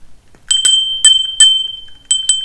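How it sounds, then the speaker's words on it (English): A small cheap hand bell rung in several quick, bright metallic strikes, close and loud, each tone ringing out briefly, with short gaps between rings and no voices. "Yes, I bought a little bell."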